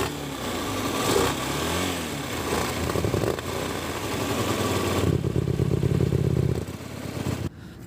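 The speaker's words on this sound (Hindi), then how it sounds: "संदीप करो ऐसा, और बाइक का इंजन जो है वो स्टार्ट कर लेना है।" A second-hand Hyosung superbike idles with its exhaust covered by a cloth, giving a steady loud engine drone with clatter. The tone shifts partway through, and the engine then cuts off near the end.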